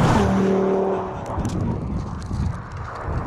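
A car on a standing-start lap roars past at around 200–220 km/h, a loud close engine whoosh that peaks in the first second and fades into rumbling wind and road noise.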